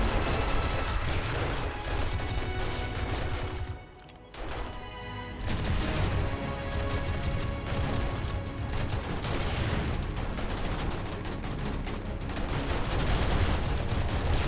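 Automated turrets in 7 Days to Die hammering away at a zombie horde, dense nonstop loud gunfire with crashes and booms, briefly dropping out for a second before resuming.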